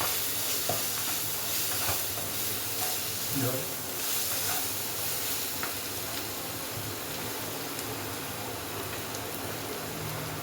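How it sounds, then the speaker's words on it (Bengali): Spiced chicken stir-fries in a pan, a constant hissing sizzle with occasional stirring scrapes and spatters, with a voice talking at times over it. "এবার এটাকে আমি ভালো করে কষিয়ে নেব"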